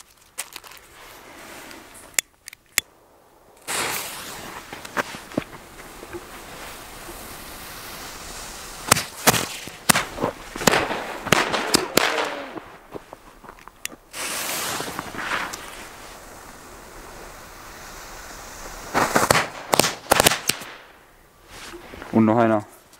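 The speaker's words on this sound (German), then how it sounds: "Und noch die Funke Knallfrösche." Funke jumping-jack firecrackers (Knallfrösche) go off outdoors in snow on New Year's Eve, a rapid series of sharp cracks and pops in irregular bursts, with people talking at times.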